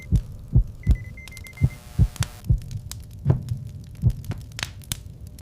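Heartbeat sound effect: a steady series of deep, loud double thumps in slow rhythm, with a faint hum and a few brief tones between beats.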